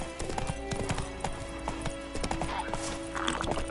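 Roach the horse gallops with rapid, rhythmic hoofbeats in The Witcher 3, nearby and continuous, with a brief whinny near the end.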